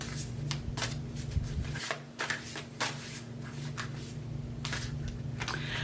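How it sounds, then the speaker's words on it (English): Cards are shuffled repeatedly in quick riffling bursts, close up, over a low steady hum, with no talking. "This is the proper way to shuffle tarot cards."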